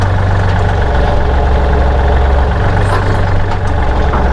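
A Kubota tractor engine runs at a steady, loud, low idle throughout, with a slight shift in its drone partway through and no speech.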